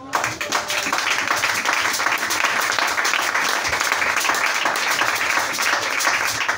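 A church congregation applauds during an Easter service, a dense, loud, continuous round of clapping from many hands that holds steady throughout.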